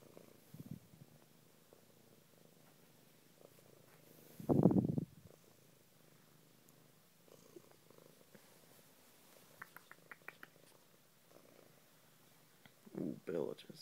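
A cat purrs softly and continuously up close, a faint low rumble with a few louder bumps and brief quiet voices nearby.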